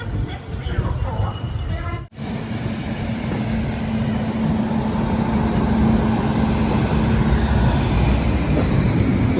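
Malabar Express pulling out of a station behind a WAP7 electric locomotive, a steady rumbling roll of wagons on rails that builds slightly after a brief dip near the start.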